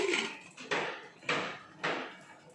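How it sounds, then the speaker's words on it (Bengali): A lid set down on a cooking pot of simmering water in a home kitchen, heard as four distinct clanking knocks spaced about half a second apart, close and fairly soft, with no talk. "এখন এটাকে ঢাকা দিয়ে দেবো।"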